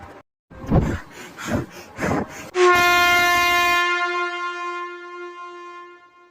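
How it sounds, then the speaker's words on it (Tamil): A few heavy rhythmic thumps, then a loud, sustained train horn blares and slowly fades as the train draws near. "ஐயோ, ட்ரெயின் வர கிளம்பிடுச்சு."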